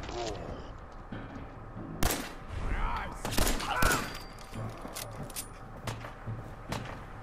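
Scattered gunfire in Fallout 4, a few sharp shots and brief volleys at moderate distance over a low ambient game background, with speech mixed in.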